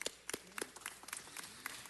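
Soft, scattered applause at a city council meeting honoring Hoy Newspaper's 10th anniversary: quiet, uneven clapping from a small crowd, with light murmuring underneath.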